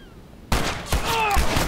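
Gunshots in The Last of Us: after a quiet start, a sudden loud shot bursts in, followed by a second blast and lingering ringing debris and echoing tails.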